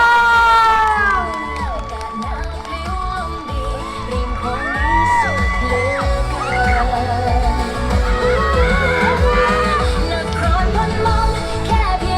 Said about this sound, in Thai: ขอเสียงปรบมือดังๆให้กับ แต่ศิลปินดาราทุกท่านอีกครั้งหนึ่งครับ